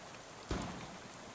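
Rain falls steadily in the video game Shadows Over Loathing as a soft, even hiss throughout, with one brief louder splash or gust near the middle and no voices.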